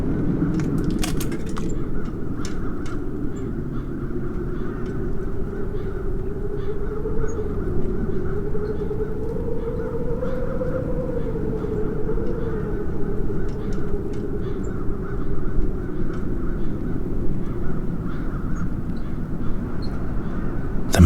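Crows cawing in the video game The Dark Eye: Chains of Satinav sit over a constant droning ambient bed, with sporadic short harsh calls scattered across the long, moderately loud stretch.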